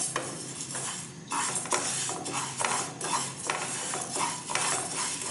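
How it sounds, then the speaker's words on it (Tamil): Dry moong dal is roasted in a kadai, a ladle scraping and stirring continuously with a gritty rustle of lentils against the metal, close and fairly loud with regular stroke pulses; no one speaks. "பாசிப்பருப்பை நல்லா வறுத்துக்கலாங்க"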